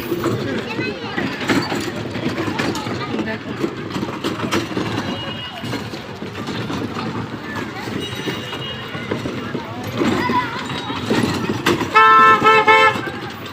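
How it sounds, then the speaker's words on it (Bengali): A small toy train horn toots briefly near the end, over busy outdoor crowd noise and people chattering at a small children's fair. "এটা হচ্ছে আমাদের টয় ট্রেন"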